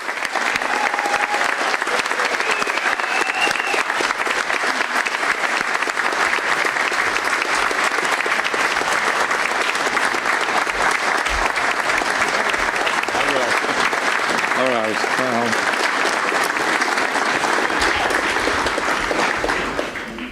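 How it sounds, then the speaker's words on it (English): Sustained loud applause from an audience at a 9/11 memorial event in 2018, clapping steadily and densely for about twenty seconds before tapering at the end, with voices faintly mixed in. "And let's give a nice round of applause here for Mr. Joseph Hayes."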